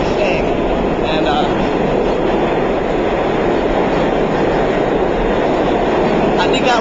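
A New York City subway L train rumbles steadily and loudly throughout, a continuous close rail roar with faint squeals near the end, no talking heard.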